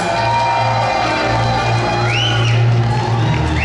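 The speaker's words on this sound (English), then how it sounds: "How about a big, big round of applause?" A luncheon audience cheers and whoops with scattered shouts and some clapping, a dense continuous crowd roar at close range with a few rising whistle-like calls standing out above it.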